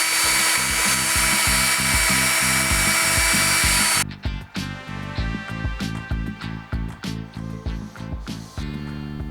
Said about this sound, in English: Looks like we're gonna have to drill it out.